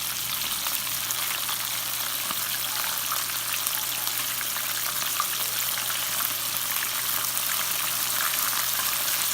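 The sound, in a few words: chicken livers frying in oil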